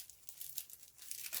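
Journal packaging being cut open, quiet crisp tearing and crinkling of wrapping in short uneven bursts, close and faint.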